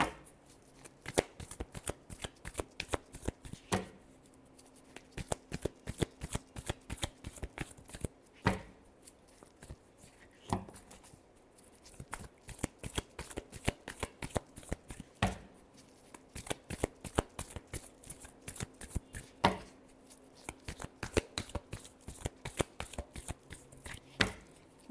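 Tarot cards are shuffled over and over by hand in a long run of crisp, rapid riffling slaps and flicks, close and fairly loud, with almost no talk.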